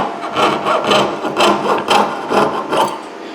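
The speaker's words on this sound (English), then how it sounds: "So I trim it up with my Potter jeweler's saw" Rhythmic rasping strokes of a Potter jeweler's saw trimming flashing from a die-formed metal piece on a V-board, about seven steady back-and-forth cuts, close and fairly loud with no talking.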